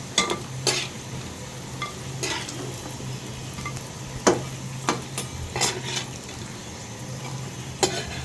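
Eggplant and potato slices frying in hot oil for begun bhaji, giving a steady close sizzle broken by several sharp clinks and scrapes of a utensil stirring in the pan.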